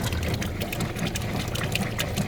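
Water running through the lines of a NuCamp camper as the pump pushes it, with a steady broadband rush and gurgle and sputtering bursts from air left in the lines.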